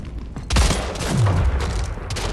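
A shotgun blast from the arena shooter Splitgate, one loud close shot followed by a rumbling boom and a descending tail of echo that fades over about two seconds.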